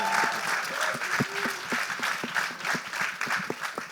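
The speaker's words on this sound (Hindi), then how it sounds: "जोरदार तालियां।" Enthusiastic applause from the audience at a Hindi film trailer launch event, dense clapping with sharp individual claps standing out, steady and close for about four seconds.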